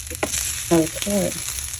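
Rice toasting in butter in a heated pan sizzles and crackles steadily at close range, with brief stirring movements over the frying.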